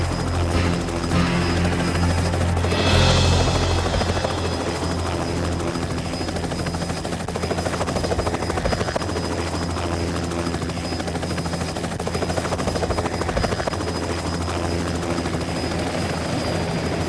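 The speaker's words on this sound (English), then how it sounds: "Nor is landing our helicopter on this moving deck." A helicopter's steady rotor thrum and engine whine fill the scene as it lands on a moving ship's deck, loud and close, holding constant with a brief surge of rushing noise early on.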